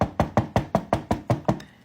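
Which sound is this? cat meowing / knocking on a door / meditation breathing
knocking on a door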